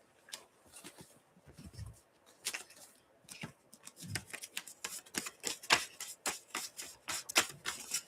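Tarot cards being shuffled by hand, quiet and close, with soft papery riffles and a run of sharp clicking snaps that grow more rapid and rhythmic toward the end.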